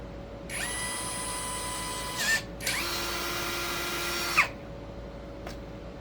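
A powered rivnut tool setting a rivnut, with two sustained whirring motor runs, each ending in a brief sharp bind as the nut seats. The sound is close and loud, with no talking.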